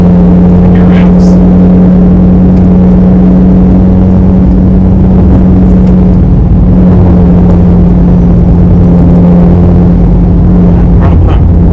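A vehicle engine labours up a hill under load, giving a loud, close, unbroken droning hum that holds steady the whole way.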